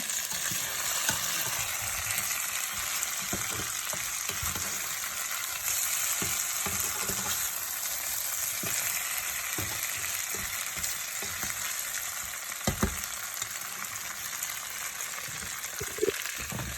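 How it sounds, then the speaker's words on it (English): Potatoes seasoned with salt and pepper fry in a skillet, giving a dense, constant crackling sizzle close up and unbroken throughout, with a few faint knocks of the pan underneath. "So right now I just got those potatoes in the pan, and I added a little bit of salt and pepper. And that's all for now, and we're going to let them fry up."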